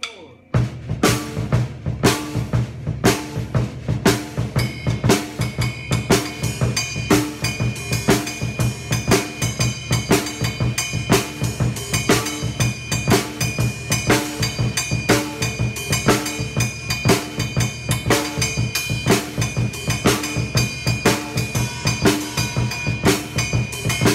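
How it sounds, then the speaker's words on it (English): A steady, driving drum-kit groove playing the Guinean Bada rhythm with a shuffling bass drum pattern and regular cymbal hits, loud and continuous throughout. "And with the shuffle bass, it can sound a bit like this."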